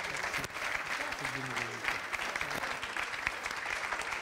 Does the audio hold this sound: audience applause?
yes